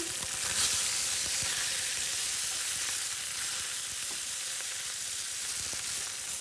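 Steady hissing sizzle of fish frying in hot oil in a pan, continuous and fairly close, with faint occasional clinks.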